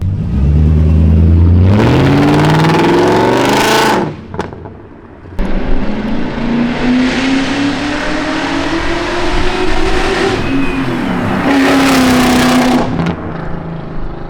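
A BMW 540i E39 sedan's engine revs hard through several rising gear pulls, loud and close, with a brief lift and gear change between bursts.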